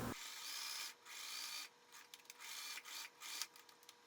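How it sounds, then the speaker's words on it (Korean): A sewing machine runs in bursts of steady whirring stitching through thick cotton knit jersey, hemming a narrow sleeve cuff, stopping and starting several times with short pauses between runs. "이제 소매부리하고 밑단에 재봉틀로 박아주고 반 처리하겠습니다."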